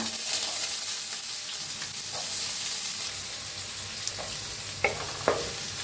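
Cumin, mustard seeds, asafoetida and onion sizzle steadily in hot oil in a kadhai, a constant bright hiss with a few sharp pops and stirring scrapes near the end.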